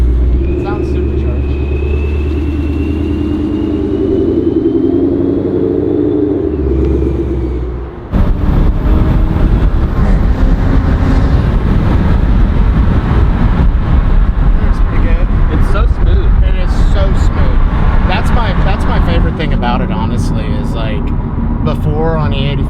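A turbocharged Audi S4 engine accelerating hard, a loud, close rising roar that builds sharply after a quieter cabin passage, with people talking over it.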